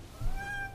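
A cat gives a single short, rising meow close by, with no talking over it.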